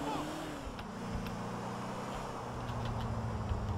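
City traffic in Grand Theft Auto IV, engines humming and cars rolling past at moderate distance, a continuous low rumble with tonal engine drones throughout.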